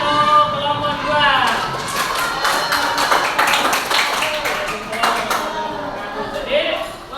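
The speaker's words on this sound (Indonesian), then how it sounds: "tepuk tangan untuk kelompok 2" A classroom applauds group 2 with a burst of scattered, close hand clapping that fades out, while voices talk around it.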